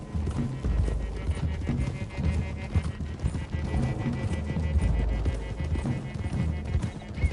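Horses trotting in the video game Red Dead Redemption 2: a steady clip-clop of hooves from several animals, close and continuous, with a faint whinny and some background voices.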